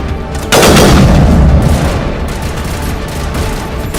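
A rocket launcher and gunfire in the Mass Effect: Legendary Edition video game, with a heavy booming blast just past half a second followed by sustained loud rumbling fire that stays dense and steady to the end.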